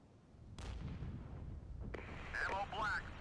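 Artillery shots in the war game Regiments, a deep boom rolling out at the start and a second sharp blast near the middle followed by a heavy lingering rumble, with radio-style voice chatter over the end.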